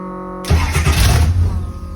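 An old car's engine cranks over a steady low hum, then catches about half a second in and runs loud and rough up close, sputtering unevenly for the rest of the moment.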